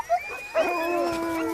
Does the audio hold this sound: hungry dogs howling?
yes